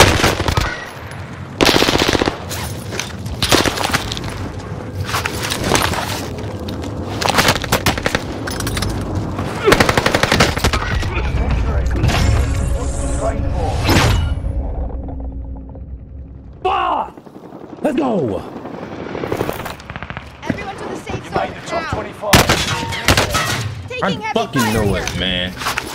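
Rapid automatic gunfire and scattered single shots in the video game Warzone, loud and near, in dense bursts over most of the stretch with brief lulls, while players talk over the shooting.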